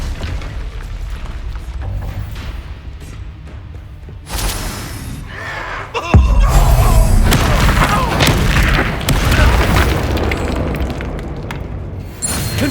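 Explosive Bombarda spell blasts in Hogwarts Legacy: a heavy, close boom erupts with shattering debris and rumbling aftermath, following earlier smaller impacts amid ongoing battle noise.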